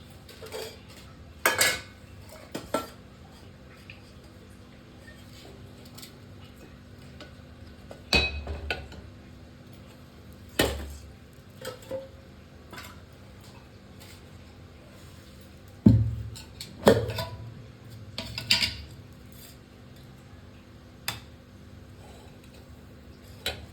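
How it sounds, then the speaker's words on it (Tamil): Metal pots and a pressure cooker clank and knock as they are set down on a stove, in scattered bursts amid quiet handling noises. "அடுப்பு பாத்திரம் வச்சுக்கலாங்க ஒரு குக்கர் வச்சுக்கலாங்க"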